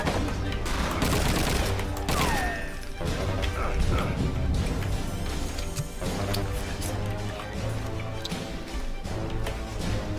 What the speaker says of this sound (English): this is the MG42, and anyone who has studied World War II weaponry or anything like that, you'll know it's quite a powerful weapon